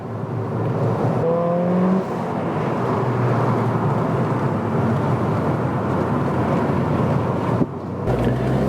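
A Mountune Fiesta ST3 hot hatch drives country lanes with a continuous, fairly loud blend of engine drone and road roar, briefly rising in pitch early on, with a sharp dip and shift near the end.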